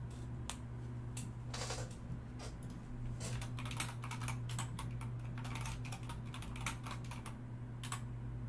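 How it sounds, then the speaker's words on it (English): Quick, irregular bursts of computer keyboard keystrokes clatter faintly over a steady low hum, continuing throughout. "She is typing again."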